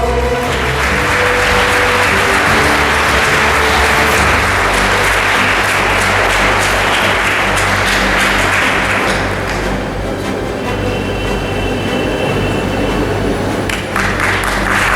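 A crowd at a school toppers' felicitation ceremony breaks into loud, sustained applause that fills nearly the whole stretch, with a low steady hum underneath and the clapping thinning slightly toward the end.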